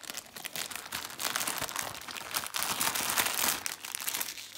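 A plastic parcel bag shipped from China crinkles and rustles loudly as it is torn open, continuous close crackling handled throughout with no talk.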